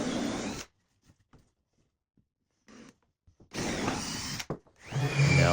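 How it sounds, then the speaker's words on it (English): A power drill whirs in several short bursts drilling screw holes into wood for a live edge dining table, with brief quiet gaps between them and no talking. "now with my drill, I'm drilling out the holes for the screws"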